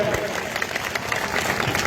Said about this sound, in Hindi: एक बार जोरदार तालियों से उनका स्वागत किया जाए।